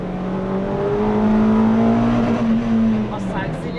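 A car accelerates at a track day at Folembray, its engine note holding loud and steady before easing off, with people chatting nearby.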